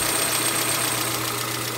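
A car engine runs steadily just after starting, a car that sputters and sometimes stalls, with a constant close hum and a slight rough knocking texture throughout and no voices.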